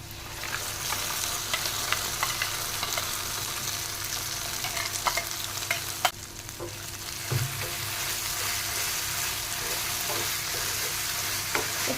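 Ground paste tossed into ivy gourd frying in a pan for an Andhra-style dry fry, a steady crackling sizzle running throughout with occasional clicks and scrapes of a ladle, close by and without talk.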